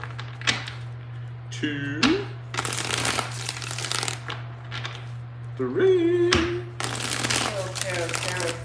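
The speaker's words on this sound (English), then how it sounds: "shuffle." Cards are shuffled by hand during a tarot reading, several crisp riffling bursts between stretches of someone talking, with a steady low hum underneath.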